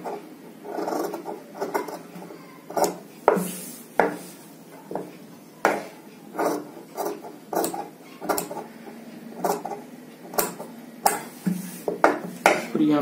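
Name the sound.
cutting threads and fabric for a coat collar with scissors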